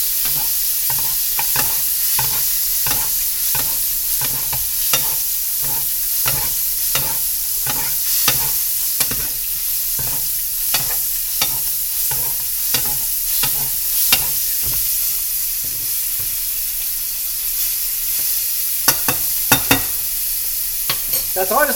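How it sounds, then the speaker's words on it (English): Scallops sear in a hot pan as butter melts into the oil and is spooned over them, a constant loud sizzle broken by a steady series of quick scraping and tapping basting strokes. "we're just going to let that butter mix with the oil a little bit and start basting"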